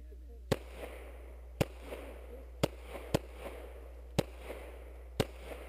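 At an IDPA match stage, a pistol fires six sharp, loud shots in an uneven sequence about a second apart, each followed by faint echo.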